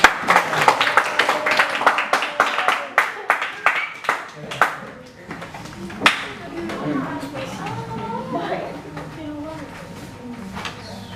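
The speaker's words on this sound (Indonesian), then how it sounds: "Tepuk tangan untuk kelompok." Classroom of students clapping for a student group during a lesson: a burst of fairly close, loud hand claps for about five seconds, then fading into scattered voices and classroom chatter.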